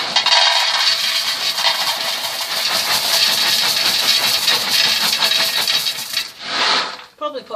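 Gravel poured into a large pot for drainage in a garden, a loud continuous rattling clatter of stones for several seconds that thins out and stops near the end.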